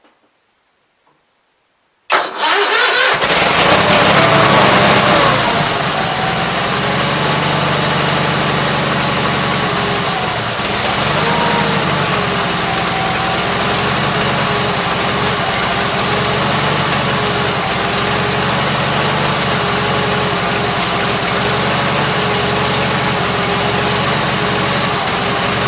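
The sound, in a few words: Gravely 8163-T mower engine idling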